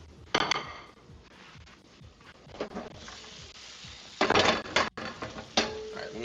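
A pan and metal utensils clatter while fry is stirred and cooked, with sharp scattered clanks and scrapes at irregular intervals over a faint sizzle close by.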